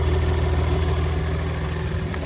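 Ford 3.0 PowerStroke diesel V6 in a 2021 F-150 idling steadily up close, a low, even rumble with a faint rattling clatter running throughout and no voices.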